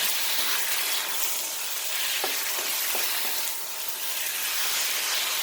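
Beef sears in a hot pan for a Chinese dish, with a loud, continuous sizzle and hiss and occasional stirring scrapes.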